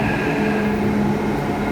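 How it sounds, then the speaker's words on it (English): A Hyderabad metro train arrives at the station with a loud, steady rumble and a sustained electrical hum that cut off abruptly. No voices are heard. "Train has come, I think."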